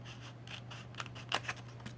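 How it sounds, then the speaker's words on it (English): Paper being snipped with a pair of scissors while crafting an altered mini composition notebook; a few short, soft cuts come close together near the end, heard alone over a steady low hum. "I'm just going to cut it using a pair of my favorite scissors."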